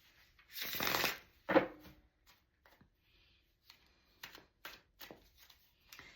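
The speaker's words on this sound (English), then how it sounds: "I'm going to shuffle one more time, Gina, and then we're going to pull it from" Cards being riffled and shuffled up close, one long loud riffle followed by a shorter one, then quiet soft taps and shuffles.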